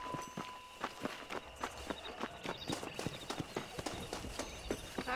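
Horse hooves clip-clopping at a steady riding pace in the Red Dead Redemption video game, rhythmic and fairly close, with a faint ambient background and no talk.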